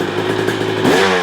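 A 2023 KTM 300XC TBI two-stroke dirt bike with a freshly rebuilt top end revs up loudly and close by, its buzzing engine note climbing sharply partway through.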